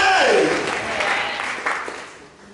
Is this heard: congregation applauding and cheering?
yes